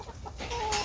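Soft clucking from backyard hens working a compost pile, a brief low murmur of a few clucks rising slightly toward the end, faint and close.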